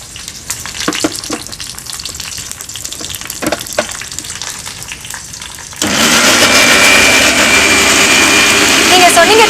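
After a few quiet clinks and handling sounds, a mixer grinder switches on abruptly and whirs loudly and steadily as it blends aloe vera gel.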